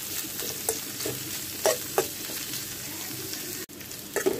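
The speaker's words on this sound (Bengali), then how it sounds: "তো পেঁয়াজ রসুন তো নরম হওয়া পর্যন্ত একটু আমি ভেজে নিচ্ছি।" Chopped onions and garlic fry in a pan with a soft, continuous sizzle, broken by a few sharp scrapes and taps of a spatula stirring them.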